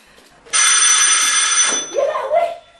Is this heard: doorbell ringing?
yes